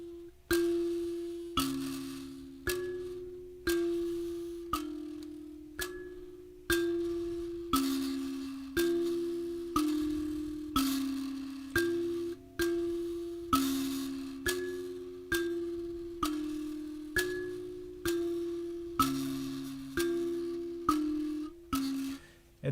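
An mbira plays the upper left-hand melody of Nemamusasa, a steady cycle of plucked metallic key notes with ringing decay, close and clear, repeating without talk for over twenty seconds.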